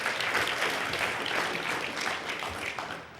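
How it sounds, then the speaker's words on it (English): A conference audience at a hacking talk applauds a speaker, a dense sustained clapping that stays steady and slowly thins toward the end. "so give him a big round of applause"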